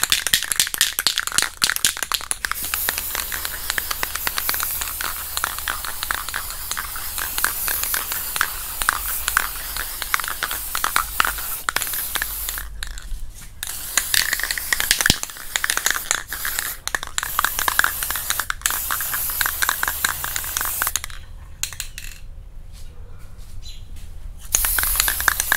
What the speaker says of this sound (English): So let's spray this guide coat on it